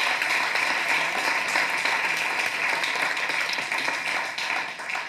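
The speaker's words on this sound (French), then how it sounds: "On peut l'applaudir." An audience at a French women's mental health event applauds a guest coming on stage, a dense, steady wash of many hands clapping that holds throughout and fades slightly at the end.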